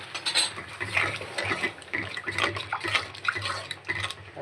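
Water goes into a spice paste frying in oil for a prawn and Malabar spinach curry. Close, busy splashing and bubbling mixes with scraping stir sounds, continuous and moderately loud.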